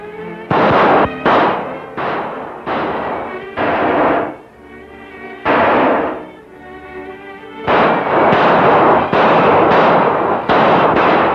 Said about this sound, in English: they're shooting up the whole west end of town